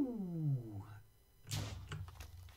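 Wither spawning in Minecraft Education Edition: a low groaning tone slides downward, then a sudden explosive burst hits with crackling debris that rings out and fades, fairly quiet overall.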